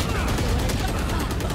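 Rapid gunfire from two players in the video game Valorant, a dense continuous stream of shots packed into a short burst, with a voice talking over it.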